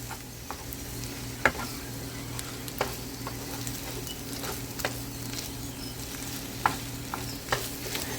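A shrimp stir fry sizzles steadily in a hot pan while being mixed, with irregular scrapes and knocks of the utensil rising over the constant crackle.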